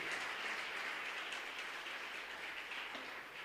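A church congregation applauds during a sermon, a soft, distant wash of continuous clapping heard faintly and evenly throughout.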